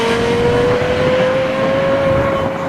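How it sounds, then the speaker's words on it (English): Lexus LFA engine running loud and close, a smooth, sustained high-pitched tone that rises slightly, steady without breaks and with no voices over it. "That is the best sounding car I've ever heard in my life."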